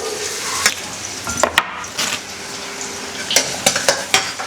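Chopped onion and cumin fry in a pan for a Tamil-style greens stir-fry, with a soft sizzle underneath and repeated sharp scrapes and clinks of a spoon stirring against the metal at irregular intervals.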